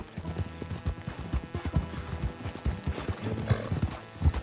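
Hooves of a donkey clip-clopping at a walk in the Western game Red Dead Redemption 2, a steady close rhythm of soft thuds with a brief whinny-like call, heard alone without talk.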